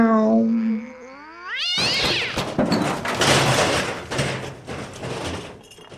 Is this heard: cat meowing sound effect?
yes